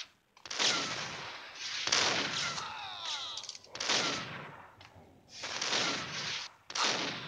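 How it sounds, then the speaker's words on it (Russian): Shotgun blasts and other gunfire from the mobile game Max Payne Mobile, a series of heavy broadband bursts separated by short gaps, moderately loud with no talk over them. "Прямо в него влетел и дробовиком выстрелил"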